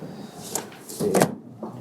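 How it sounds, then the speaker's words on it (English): Ashtrays in the interior of a 1988 Mercedes-Benz 560SEL with a 5.6-liter V8 being opened and shut, a few short plastic clicks and slides close by, with no talking. "Both ashtrays work like they should."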